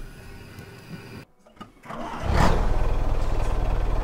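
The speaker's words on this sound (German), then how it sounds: "Ich mache mal den Motor an." A heavy diesel truck engine in a racing video game cranks briefly, falls quiet, then catches and settles into a loud, steady, throbbing idle.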